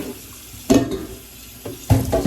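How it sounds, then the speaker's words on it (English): Cold tap water fills a cooking pot in a kitchen, heard as two short, splashy gushes over a faint steady background. "Just fill it up with some cold water so to cool it down."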